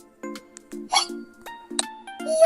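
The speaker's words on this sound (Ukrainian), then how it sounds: "Зайчик від подиву почав аж голосно гикати." A hare in a children's story hiccups loudly, voiced as a string of about five short, sharp hiccup bursts in an irregular rhythm, close and fairly loud, with no other talk.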